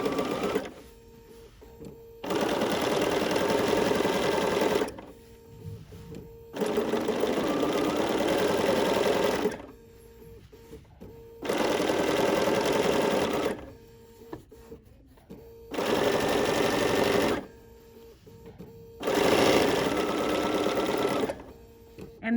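A sewing machine understitches a seam on a cowl neck tee in five separate bursts of steady, fast stitching, each lasting about two to three seconds, with short quiet pauses between them.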